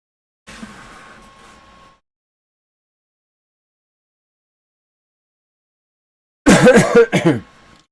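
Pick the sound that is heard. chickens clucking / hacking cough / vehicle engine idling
hacking cough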